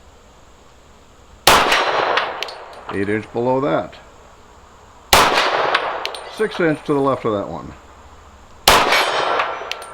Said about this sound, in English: Got the gong.